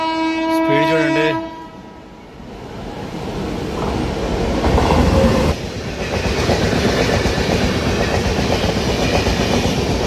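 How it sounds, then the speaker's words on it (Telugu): Rajdhani Express running from KSR Bengaluru to Hazrat Nizamuddin sounds a long two-tone horn blast, then thunders past at speed with a loud, sustained rumble and rattling wheel clatter close by. "from KSR Bengaluru to Hasrat Nizamuddin అండి ఇది రాజధాని ఎక్స్ప్రెస్"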